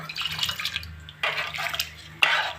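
Tamarind juice poured into cooked bottle gourd in a pot, coming as a few short liquid splashes and gurgles in bursts, close by, with no talk.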